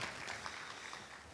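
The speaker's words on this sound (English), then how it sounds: "Please give them a round of applause for what they have done the last 14 years." Audience applause at a recognition ceremony honouring 14 years of work, a faint, steady wash of many hands clapping with no single claps standing out.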